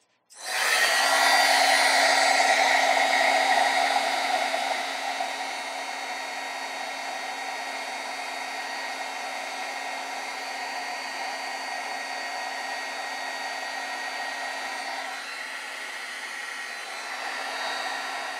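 An embossing heat tool blows hot air steadily to melt embossing powder on a card on a craft mat. It starts with a loud, close whoosh, then settles into a slightly softer, even hum for the rest of the time.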